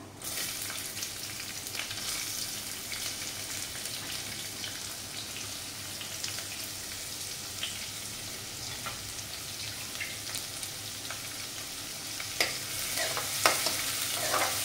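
Finely chopped onion and fennel seeds sautéing in a pan, a steady quiet sizzle with occasional light scrapes of a spatula stirring, close but soft.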